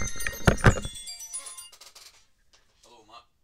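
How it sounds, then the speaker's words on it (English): A phone rings with an electronic melodic ringtone for an incoming call, several bright tones at the start, then fading as a person speaks. "Sorry, I need to take this phone call."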